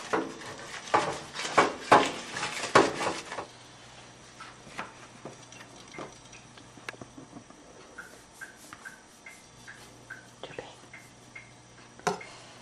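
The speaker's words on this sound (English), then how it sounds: "just using the wrapper from the butter to get that around on the pan to grease the pan" A butter wrapper is rubbed around a pan to grease it, giving quiet rustling and scraping. A burst of louder handling noise comes first, then soft scattered ticks and clicks over a low steady hum.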